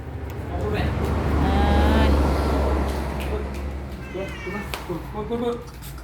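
A cat meows repeatedly in drawn-out, wavering cries, close and clear over a low background rumble, with people talking around it.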